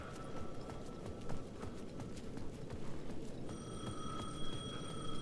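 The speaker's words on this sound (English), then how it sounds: "The payphone at the edge of the plaza was ringing again" A payphone in Alan Wake II rings with a steady, bright electronic tone amid faint rhythmic footstep-like clatter, the ringing growing more distinct toward the end.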